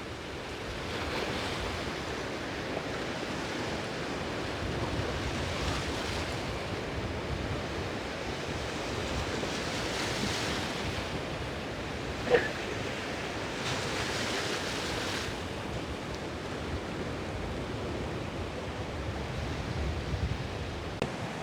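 Sea waves at Keerimalai, Jaffna, surge and wash against the shore in a continuous loud roar with wind buffeting the microphone, one brief knock midway, no voices.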